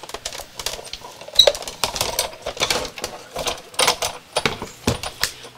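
An embossing machine cranked by hand as paper runs through it for monoprinting, a series of irregular clicks, clacks and mechanical knocks close by, with no talking.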